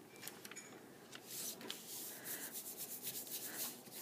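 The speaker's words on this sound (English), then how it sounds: "Got to rub really nice all over to get it to show up on that other side." Paint-covered paper, folded over, being rubbed by hand, giving soft, faint scratchy brushing strokes that come in repeated irregular passes, quiet and close.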